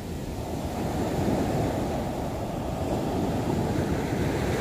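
Sea waves surge onto the shore at Nha Trang with a steady, dense wash of churning surf and some wind buffeting the microphone, loud and continuous without distinct breaks.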